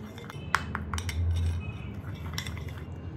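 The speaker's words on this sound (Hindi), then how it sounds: "अब हमने इस सब मटेरियल को अच्छी तरह मिक्स कर देना है" A spoon mixes lip scrub ingredients in a small dish, with soft scraping and a few light metallic clinks against the container, close and fairly quiet, with no voices.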